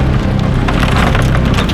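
A race car slams into a pine tree off an off-camber turn, producing a loud, dense rush of cracking, splintering wood and crunching impact noise.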